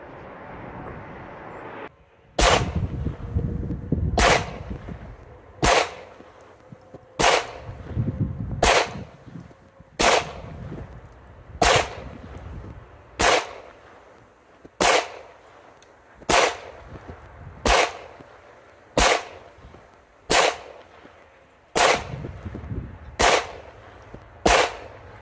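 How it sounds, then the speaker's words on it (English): A magazine of gunshots fired one at a time from a firearm fitted with a red dot sight, about fifteen sharp, loud reports spaced at a steady, unhurried pace outdoors. "let's run another mag through it"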